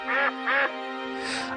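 A duck quacks twice in quick succession at close range, then a brighter, higher squawk follows, with no talking.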